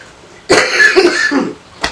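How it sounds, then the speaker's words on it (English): A single harsh, close cough bursts out and trails off, followed by a brief sharp breath or clearing sound. "Excuse me, I got a cough."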